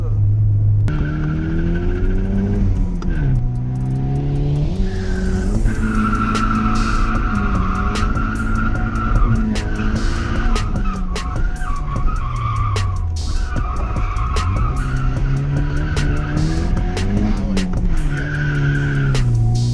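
Nissan S13 with a CA18DET engine drifting, with loud, continuous tire squeal and skidding over a revving engine whose pitch rises and falls, heard up close.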